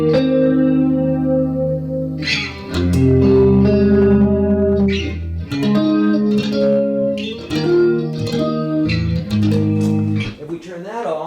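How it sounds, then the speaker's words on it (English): Electric guitar chords with a swirly chorus effect, strummed in several separate phrases that ring out between changes, close and fairly loud, with no voice over the playing. "See how it sounds kind of swirly?"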